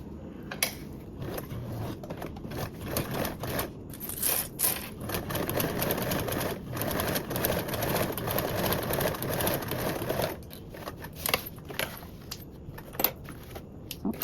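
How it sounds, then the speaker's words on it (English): A sewing machine topstitches a pocket divider on a toiletry bag with a steady, moderate whirring hum for roughly ten seconds, then stops and leaves a few scattered clicks and handling sounds. "top stitch along that with a 1/8 seam allowance"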